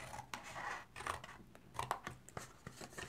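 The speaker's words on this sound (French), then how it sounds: "Donc, on coupe à l'intérieur, plutôt vers l'intérieur de la boîte." Scissors cutting paper to make a gift box, a string of close, fairly quiet snips and crisp crunching slices at an uneven pace, with no voices.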